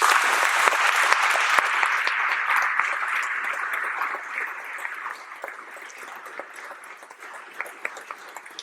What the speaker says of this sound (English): and a great round of applause from all of us.